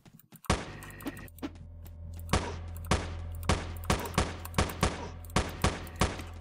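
Pistol gunfire in the video game Teleglitch, about a dozen sharp, loud shots fired in an uneven rhythm over a steady low game hum, with no talking.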